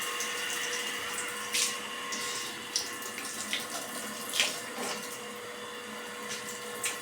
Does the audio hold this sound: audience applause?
no